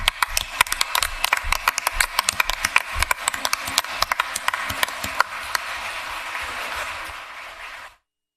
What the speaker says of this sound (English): Let's give them a round of applause as they come.